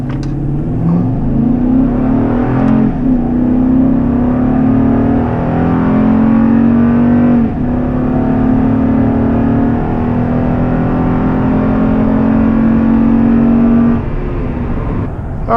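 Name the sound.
car accelerating during a 0 to 60 test pass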